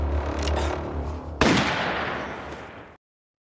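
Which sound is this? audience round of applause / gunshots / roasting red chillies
gunshots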